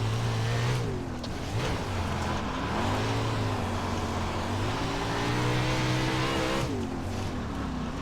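Race car engine roaring steadily on a dirt oval during an iRacing Chili Bowl session, a continuous loud drone with pitch rising and falling through throttle changes and brief dips around corners.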